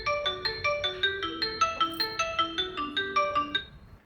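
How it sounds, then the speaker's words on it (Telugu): A phone rings when the Find My Phone function on a Redmi Watch Move AMOLED smartwatch is triggered, giving a fast, bright, repeating electronic melody that sounds loud and close for about three and a half seconds, then stops. "ఇది ఫోన్ కూడా మీకు ఇట్లా అంటే రింగ్ అవుతుంది."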